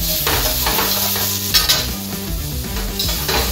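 Fried rice sizzling and caramelising in a hot pan, a loud continuous crackling fry with scraping stir strokes and occasional utensil knocks, close up with no talk.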